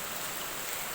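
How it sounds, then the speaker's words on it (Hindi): Steady rain pours down outdoors in a Himachal setting, a dense, even hiss of drops on surfaces with no pauses, close and moderately loud, with no voices. "लेकिन बारिश लग गई है"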